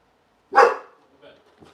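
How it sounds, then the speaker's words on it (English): A dog gives a single sharp bark close by, followed by a couple of softer trailing sounds in an otherwise quiet room. "That was a confirmation bark."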